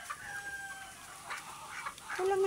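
Chickens and ducks on a small farm, with a rooster crowing and hens clucking in short bursts close by, ending in a louder, sustained crow.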